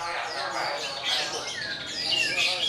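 Songbirds sing at a Javanese bird-singing competition, with continuous bright chirps and trilling whistles layered close together, the busy chorus of many caged birds at once.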